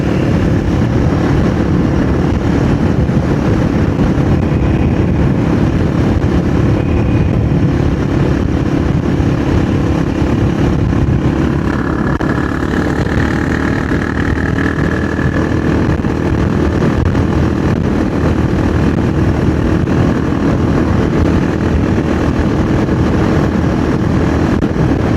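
A Royal Enfield Guerrilla 450 motorcycle engine runs steadily and loudly throughout, a continuous drone with wind noise and no talking.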